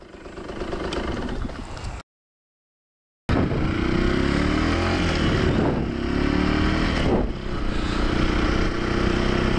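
A 50 cc motorcycle engine runs steadily and loudly up close, with a brief silent gap before a buzzy idle returns and rises and falls with revs.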